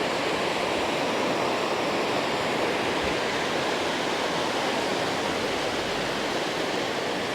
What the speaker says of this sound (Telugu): చూడండి ఆ గ్లేషియర్ వాటర్ అన్నీ మెల్ట్ వేసి వస్తున్నాయి అనుకుంటా.